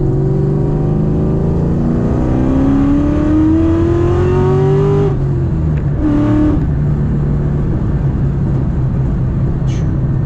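A 2003 Ford Mustang Bullitt with a Cobra engine swap accelerates hard, its V8 note climbing steadily through the revs before backing off, then a brief blip and settling to a loud, close idle rumble.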